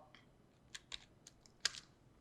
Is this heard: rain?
no